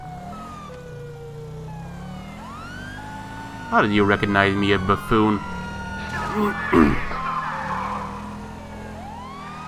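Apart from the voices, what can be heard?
police siren in the video game GTA V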